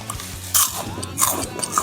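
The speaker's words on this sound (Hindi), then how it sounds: "चलो 1 पैकेट कुरकुरा पहले खा ही लेते हैं।" Kurkure crisps being bitten and chewed, with a few sharp crunchy bites and wet chewing in between, close and fairly loud with no talking.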